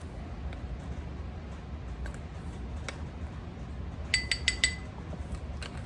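Small metal measuring spoons clink and tap while measuring garlic powder for a homemade seasoning blend, a few sparse ticks followed by a quick burst of four bright clinks, close and fairly quiet.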